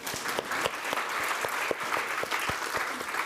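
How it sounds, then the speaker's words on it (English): Audience applause at a panel event on risks faced by LGBTQI+ people, a short burst of many hands clapping at moderate distance, steady and dense with sharp individual claps standing out. "Clap, please."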